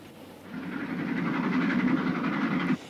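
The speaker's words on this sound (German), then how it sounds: "Also fährt der Zug ohne Halt durch bis Rugby." A train runs nonstop along the rails, a steady rolling rumble with faint rhythmic clatter that builds slightly, holds close and loud, then cuts off abruptly near the end.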